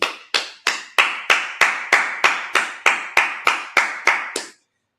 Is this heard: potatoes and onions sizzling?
no